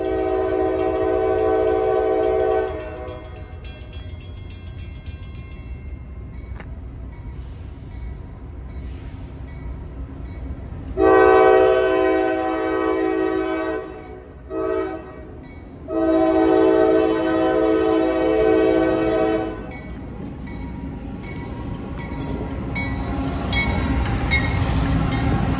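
Northbound Norfolk Southern manifest freight train passing in northern Ohio, sounding loud air-horn blasts in a long-long-short-long pattern over the steady rumble of rolling cars, with no voices.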